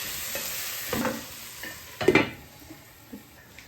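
Tomatoes and onions being stirred as they fry in a pan, a spoon scraping in a few distinct strokes over a soft sizzle, the loudest burst in the middle of the short passage, with no talking.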